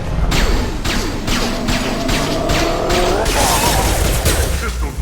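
Rapid pistol gunfire from the Mass Effect 2 video game, a dense run of sharp shots layered with combat noise and music for several seconds, loud and close.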